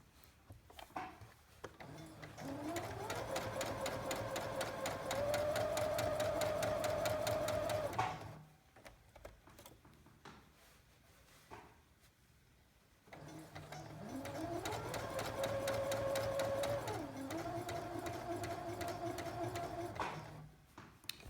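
A sewing machine stitches rag doll fabric in two steady bursts, each running several seconds with a buzzing rise in speed, separated by a quiet pause while the work is turned.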